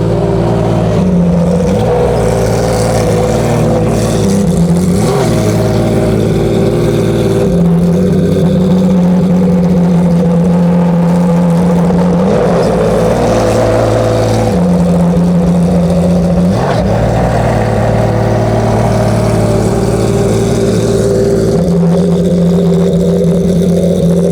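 A GT3 race car engine revs hard and loud at the Magarigawa Club circuit in Japan, repeatedly rising and dropping in pitch with sharp throttle blips, close by and with no voices.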